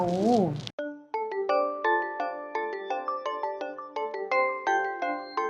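A phone ringtone plays a bright, repeating melody of chiming electronic notes, following a brief voice at the very start.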